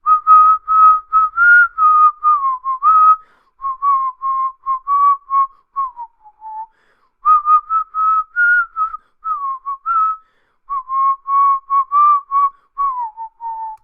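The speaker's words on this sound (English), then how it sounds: "Oh, is it my whistling?" A person whistles a lively tune solo, bright melodic phrases in short bursts with brief pauses between them, close and clear with no talking.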